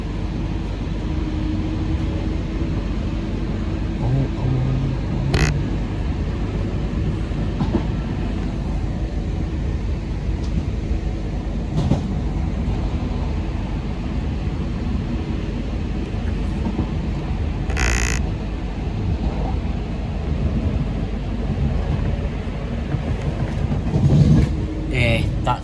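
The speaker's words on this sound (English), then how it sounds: "that's 39115 working in an Avanti West Coast service from London Euston to Manchester Piccadilly" Inside an Avanti West Coast train from London Euston to Manchester Piccadilly, a deep continuous rumble of wheels on rails fills the carriage, with occasional sharp clicks and knocks from the track passing underneath.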